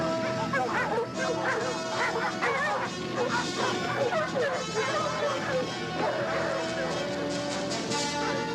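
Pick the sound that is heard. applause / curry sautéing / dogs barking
dogs barking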